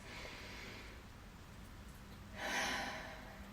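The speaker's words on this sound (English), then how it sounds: "I usually like to include a nice deep breath after this" A single slow, deep breath, a soft airy inhale followed by a fuller exhale, close and quiet with no talking.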